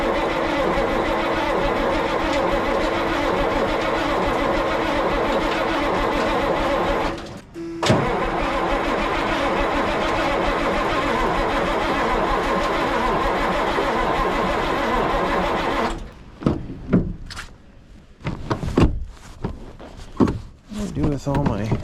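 Engine of a long-idle Kenworth K100 cabover truck cranking and running in a steady, loud, continuous drone that stops abruptly, followed by sporadic bursts and knocks, with people talking intermittently.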